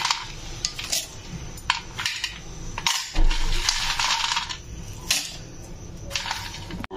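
Groundnuts and cumin seeds are poured into a mixer jar, a loose patter of small hard pieces striking and rattling against the container in several bursts. The sound is close and fairly loud, and no one speaks.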